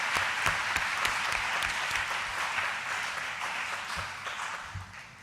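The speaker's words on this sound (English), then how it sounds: "applause" A round of applause fills a KwaZulu-Natal Legislature chamber, steady moderate clapping from the gathered audience that holds for several seconds and tapers slightly near the end.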